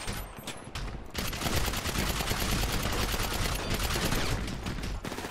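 Sustained heavy automatic gunfire from a gang war against the Crips in a GTA roleplay shootout, dense and loud with overlapping bursts after a few scattered opening shots, continuing almost without pause.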